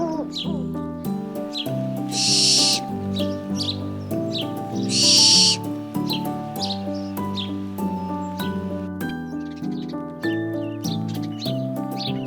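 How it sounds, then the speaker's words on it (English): A barn owl gives two loud, harsh hissing screeches, each about a second long, set over a steady backdrop of melodic music. "barn owl"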